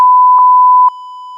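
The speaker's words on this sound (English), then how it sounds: "I'm beeping all that out." A censor bleep: a steady pure tone with short breaks, loud and close, dropping slightly in level near the end and continuing alone without any speech.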